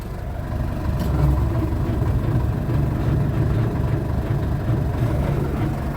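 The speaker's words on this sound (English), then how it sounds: "We're going to engage the PTO." A tractor runs at a steady, loud drone with its PTO engaged to drive a brush cutter. The engine holds an even pitch throughout, with no voices heard.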